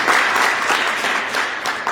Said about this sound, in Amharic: አጨብጭቡ አንድ ጊዜ።